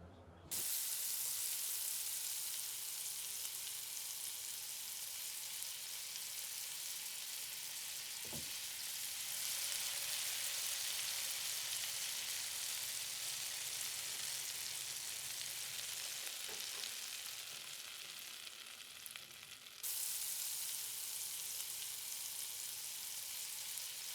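Butter, fresh garlic, smoked paprika, chili powder and cayenne frying hot in a pan with chopped lobster tails, a steady loud sizzle running throughout with a couple of brief stirring knocks, no voices.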